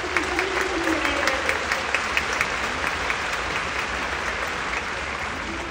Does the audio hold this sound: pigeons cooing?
no